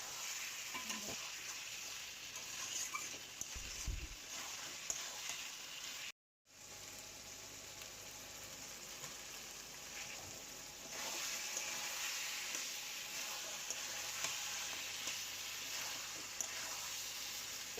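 Chicken kosha masala sizzles softly in a frying pan while a spoon stirs it with quiet scraping, a low steady fry broken by a brief gap partway through.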